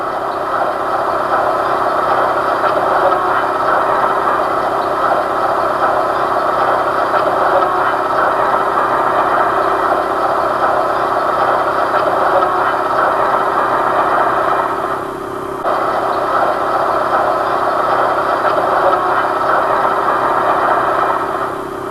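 An ALCO RS2 diesel locomotive, number 213, idles with a local freight in October 1972, giving a loud, steady, unbroken engine drone with a brief dip near the end.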